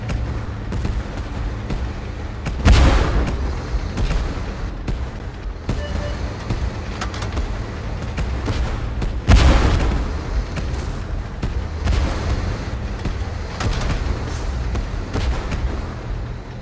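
Tank cannons in the video game Tank Force boom repeatedly over steady battle rumble, with two heavy blasts standing out among scattered lighter shots across the stretch.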